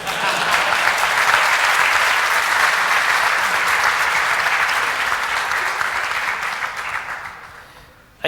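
Audience at a tech conference talk applauding steadily for about seven seconds, dense broadband clapping that tapers off near the end.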